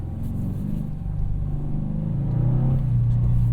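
Subaru WRX sliding through figure eights on snow in a parking lot on Bridgestone Potenza all-season tires, its engine droning steadily and rising in pitch as it revs harder near the end, close and continuous.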